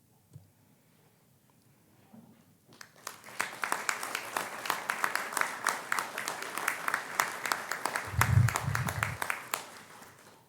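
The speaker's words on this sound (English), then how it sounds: "rise and applaud the family, members, and friends who have helped you on your journey" Audience at a fall commencement ceremony bursts into loud, sustained applause after a quiet start, dense clapping continuing steadily to the end.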